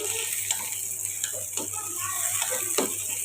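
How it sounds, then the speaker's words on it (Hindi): Garlic ginger paste and green chillies frying in a pan, a steady hiss and sizzle with occasional stirring clatters, close and continuous. "लहसुन अदरक का पेस्ट और हरी मिर्चें भी हम शामिल कर देंगे इसके साथ ही और इन्हें भी हम इसके साथ ही फ्राई कर लेंगे"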